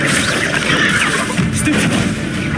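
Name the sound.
Incendio fire spell cast in video game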